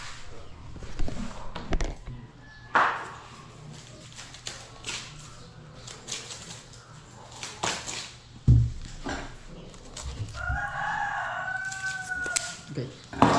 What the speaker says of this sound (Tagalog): nangingitlog na manok